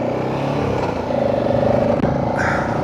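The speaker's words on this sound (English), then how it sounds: "This is a 650cc engine." A BMW F650CS motorcycle with a 650cc engine runs steadily nearby, a low continuous drone with a rising tone partway through, and a voice briefly talks over it.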